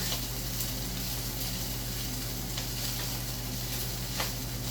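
Rice fries in oil in a pan, a steady, even sizzle close to the microphone with a faint low hum beneath and no speech.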